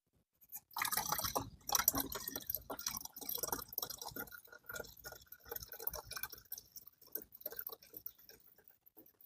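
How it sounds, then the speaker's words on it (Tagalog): Tap water pours into the tank of an electric foam wash sprayer, a close splashing, gurgling fill that starts after a brief pause, loudest early and then settling into an uneven trickle. "Tapos, punin natin siya ng tubig."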